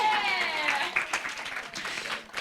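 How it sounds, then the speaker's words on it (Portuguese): An audience breaks into applause, a crowd of scattered claps mixed with cheering and voices that swells briefly and then tapers off. "Palmas para Carol."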